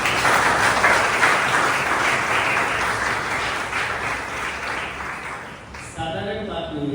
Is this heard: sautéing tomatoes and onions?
no